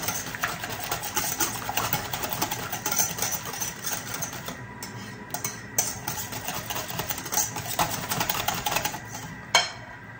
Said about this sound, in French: Voilà, il faut bien battre.